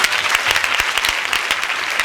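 An audience gives a big round of applause, dense and continuous clapping at steady volume with no voices standing out.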